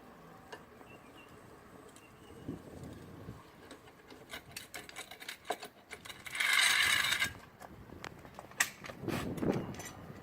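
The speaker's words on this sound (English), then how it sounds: "Turn it in an anti-clockwise direction to lower the vehicle." A car jack being cranked anticlockwise to lower a vehicle during a tire change gives off irregular metallic ratcheting, creaking and rubbing, with a louder grinding burst midway and scattered clicks, heard up close.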